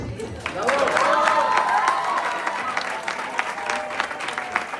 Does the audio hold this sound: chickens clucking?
no